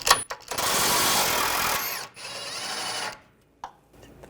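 A power tool buzzes loudly in one sustained burst, loosening a control arm nut on a 2011-2017 Nissan Juke during front lower control arm replacement, then stops with a few faint clicks afterward.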